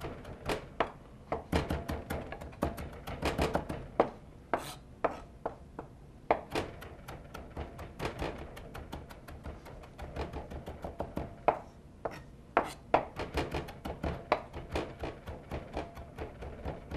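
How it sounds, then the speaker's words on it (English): A knife chops fresh cilantro finely, stems and all, on a cutting board, making a long run of close, sharp, uneven taps with brief pauses and no talking. "I'm gonna chop it fine, so I'm gonna leave the stem right in there"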